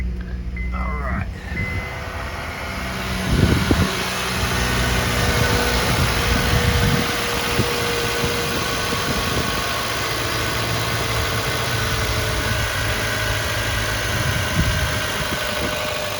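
A 2006 Honda with a 2.4 liter engine cranks briefly, starts, and settles into a steady, fairly loud idle, with a few knocks and handling noises nearby.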